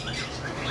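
A pair of lutino cockatiels kept for sale calls with a brief squawk, fairly faint against background noise.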